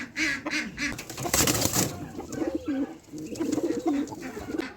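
Caged pigeons coo in low, rolling repeated calls, fairly close and steady throughout, with a few sharper bird noises mixed in and no speech.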